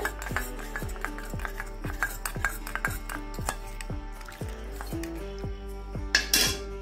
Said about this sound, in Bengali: কর্নফ্লাওয়ারটাও একটু এই দুধে গুলে নিচ্ছি আমি বাটিটা